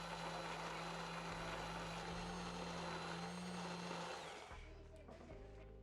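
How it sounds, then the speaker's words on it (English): A handheld immersion blender whirs loudly and steadily for several seconds, blending sauce in a wok, its motor pitch shifting, then it switches off and the whine fades. "I used my immersion blender and blended everything together right in the wok."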